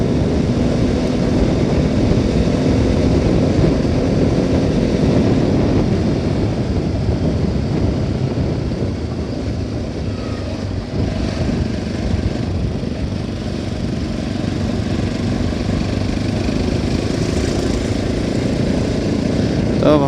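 A motorcycle engine drones steadily during a ride, a close, continuous low hum mixed with wind rush, its pitch shifting slightly as speed changes.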